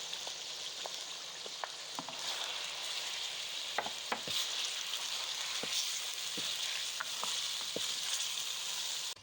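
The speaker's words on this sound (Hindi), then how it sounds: "अच्छी तरह से फ्राई करेंगे।" Ginger garlic paste fries for white chicken karahi with a constant soft sizzle. Scattered small pops and crackles sound steadily throughout, with no one talking.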